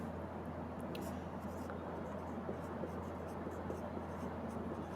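Chalk or marker scratching on a classroom board during a science lesson, a faint continuous scraping under steady background noise.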